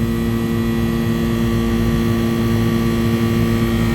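Commercial air conditioning condenser unit with both condenser fan motors running, a steady loud mechanical hum and whir with no variation and no voices.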